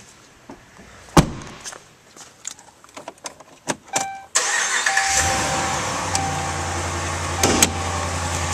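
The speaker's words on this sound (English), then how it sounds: "Now we'll start up this vehicle." Keys jangle and a few clicks inside the cab of a 2012 Dodge Ram 1500 Big Horn 4WD crew cab before its 5.7L HEMI V8 cranks and fires, then settles into a loud, steady idle.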